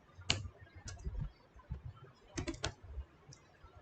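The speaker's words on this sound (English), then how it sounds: "if I type like this, cursor is moving." Typing on a computer keyboard during a live Java training session: scattered soft key clicks in short irregular bursts, quiet and close, with a clustered flurry midway.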